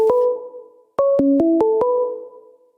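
A phone's electronic ring tone plays two-tone beeping notes, a short burst followed by a quick stepped melody of several tones, clear and close with no talk.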